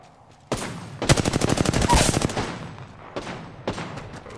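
Gunfire in the video game Apex Legends, with a single opening shot followed by a rapid automatic burst and then a few scattered shots, loud and close, with no talking over it.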